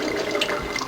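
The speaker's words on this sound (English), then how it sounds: "We're just going to run warm water" Warm tap water runs steadily into a container while acorns are leached for flour, a close, continuous splashing gush lasting under a second.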